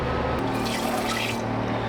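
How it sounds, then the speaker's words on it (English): Dishes being washed in the galley sink of a sailboat hauled out on the hard, with water steadily dripping and trickling throughout, close and continuous over a low background hum. "I am trying to finish washing our dishes real quick"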